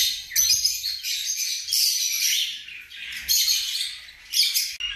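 Agapornis lovebirds, a green male and a lutino female kept as a breeding pair, give shrill, close chirps and squawks in quick overlapping bursts, with no talk.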